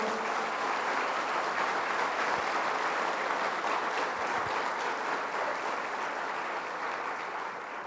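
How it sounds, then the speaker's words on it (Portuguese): A church congregation applauds the Lord in a broad, sustained wash of clapping from many people, steady and somewhat distant throughout, easing slightly near the end with no voices over it. "pode aplaudir o Senhor."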